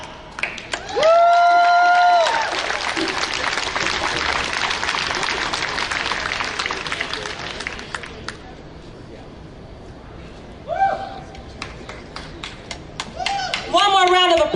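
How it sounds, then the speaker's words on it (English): An audience at a psychedelics festival event in Ann Arbor, Michigan gives sustained applause and cheering that fades and swells again, mixed with whoops and loud whistles. "One more round of applause for Victoria Burton Harris."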